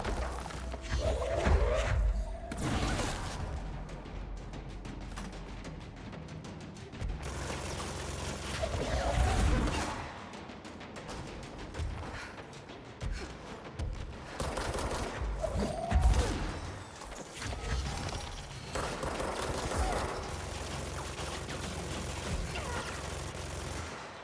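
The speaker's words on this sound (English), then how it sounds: "I hear gunshots." Gunfire rattles through the video game Control as enemies battle each other, with bursts of rapid shots, booming thumps and crackling impacts coming in waves over a dense, loud mix of game noise.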